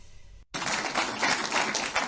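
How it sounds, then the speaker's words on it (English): After a brief silent gap, a burst of dense, fairly loud clapping from a crowd starts up and carries on steadily to the end. "And applause, yep."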